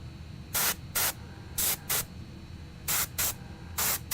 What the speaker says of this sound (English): even though this paints beautifully, it does not necessarily airbrush beautifully